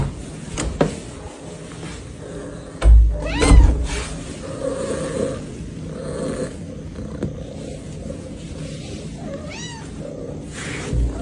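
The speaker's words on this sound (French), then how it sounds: "Il ronronne et tout." A cat purring up close with soft, steady rumbling and a few brief meows and scuffling bumps, in a home where a dog also lives.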